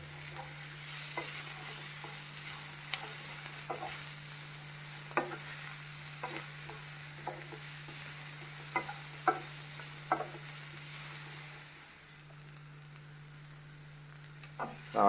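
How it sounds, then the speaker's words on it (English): Onion sautéing in a pan makes a soft, continuous sizzle under a steady low hum, with intermittent stirring clicks and scrapes against the pan. "now the onion you don't have to saute it till it becomes brown"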